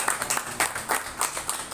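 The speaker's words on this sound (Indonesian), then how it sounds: "Tepuk tangan untuk Pak Agus Jenderal" A talk-show audience at a regional candidates' event on the environment claps briefly, in a quick run of soft, rhythmic claps heard from a distance.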